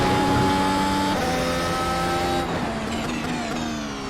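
A Mercedes W13 Formula 1 car in a racing video game accelerates hard, its high-pitched engine note climbing through gears with a brief shift midway, loud and close without a break.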